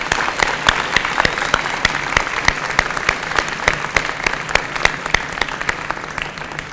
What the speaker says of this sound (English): a round of applause for these generous souls